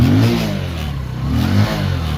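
A warmed-up motorcycle engine revving before a ride to market, loud and close, rising in two surges with a steady rumble between them and no speech.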